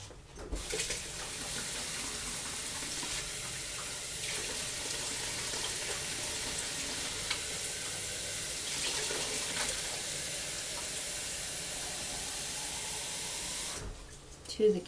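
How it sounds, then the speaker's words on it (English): A quart of water poured into a pressure canner while canning beef and gravy, a steady rushing pour lasting about thirteen seconds that ends abruptly, followed by a brief clatter. "I'm going to add a quart of water."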